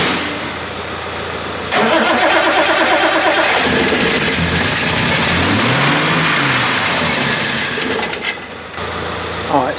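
A Triumph TR6 engine cranks with the choke held partway, catches and runs loud and close, its rough idle and revs holding steady before easing off near the end.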